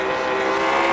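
Loud, sustained race car engine roar from the iRacing sim, a close, dense harmonic drone holding at high revs and swelling slightly toward the end, with no talking.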